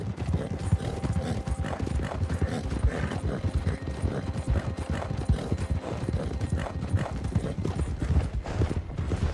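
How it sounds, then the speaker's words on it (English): Horse hooves clatter in a fast, continuous rhythm as a horse gallops in Red Dead Redemption 2, with tack and gear rattling along and steady ambient noise underneath. "I think Brucey thinks he's a racehorse and needs to go as fast as he possibly can"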